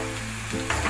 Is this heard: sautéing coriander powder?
yes